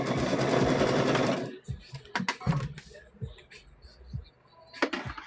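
A sewing machine stitching fabric for quilt squares, running loud and close in a steady whir for about a second and a half, then stopping, followed by handling clicks and rustles of fabric.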